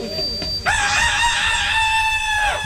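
A voice imitates a rooster's crow on stage at a Gujarati comedy show. The call is one loud, strained cock-a-doodle-doo that rises and holds, then tails off, after a short lead-in note.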